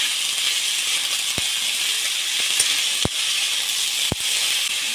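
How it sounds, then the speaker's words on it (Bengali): Cauliflower florets and potato pieces fry in hot oil in a kadai, giving a steady, fairly loud sizzle and hiss that runs the whole time, with a few sharp pops cutting through. "এবার কেটে রাখা ফুলকপি আর আলুগুলো দিয়ে দেব। দিয়ে হালকা ভেজে নেব।"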